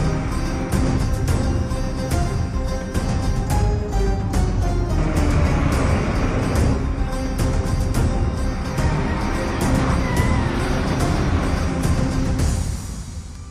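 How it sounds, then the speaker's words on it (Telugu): A heavy container truck rumbles past on a road with a loud, steady engine roar that holds for several seconds and then fades as it moves away. "సార్ ట్రక్ పాస్ అయింది."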